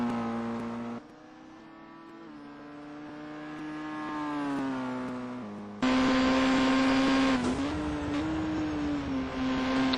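Racing car engine revving hard on a hot lap at Donington, a loud sustained harmonic whine that rises and falls with the revs, shifting gears and surging louder near the end, close and continuous with no talk.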